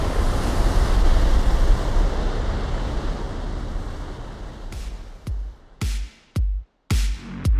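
Wind buffets the microphone on the coast before a surfski race, a loud, steady roar with surf beneath it. Toward the end it breaks into several abrupt gusty bursts separated by short silences.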